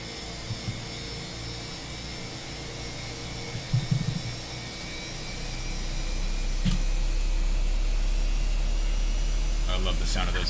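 A steady, loud jet engine drone from Microsoft Flight Simulator 2024 runs throughout, swelling louder midway, with a few faint clicks and brief bumps on top.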